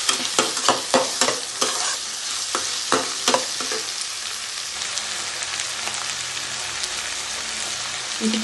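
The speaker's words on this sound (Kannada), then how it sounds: "ಚೆನ್ನಾಗಿ ಫ್ರೈ ಮಾಡಬೇಕು." Vegetable rava upma fries in a hot pan with steady sizzling, while a spoon stirs and scrapes in quick clattering strokes early on that settle into continuous crackle.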